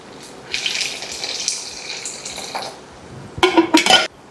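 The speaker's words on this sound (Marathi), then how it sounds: "पाणी हवं आहे तर पाणी आपण घालू शकतो" Hot water pours into a cooking pan of simmering bhajyanchi bhaji, a splashing stream in uneven bursts, followed by a short clatter of metal utensils against the pan, close and fairly loud.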